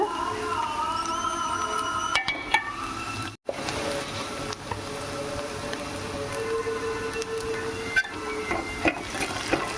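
Okra fry dusted with chili powder is stirred in a pan, giving continuous scraping and sizzling with a few sharper knocks of the spoon against the pan and a brief break partway through.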